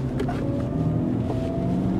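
Changan Karvaan 1200cc MPV (2024 model) engine climbing a steep hill in first gear, a steady, close-up droning hum running continuously without a break.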